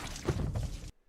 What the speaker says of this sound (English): That's the sound of the body falling.